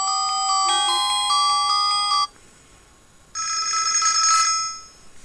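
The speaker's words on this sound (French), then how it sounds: "On va voir les sonneries, ce que ça donne." Two ringtones from a Mobiho Essentiel Le Clap Rock mobile phone play one after another, a bright melodic tone pattern followed by a pause and then a buzzy, chiming ring, both loud and close.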